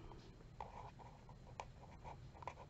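A pen writing in a paper planner, with quiet, close scratchy strokes in short bursts and brief pauses, faint against a low background hum, no talking.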